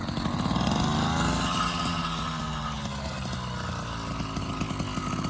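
An 80cc motorized bicycle engine running nearby, a loud buzzy two-stroke drone that rises and falls slightly in pitch as the throttle shifts.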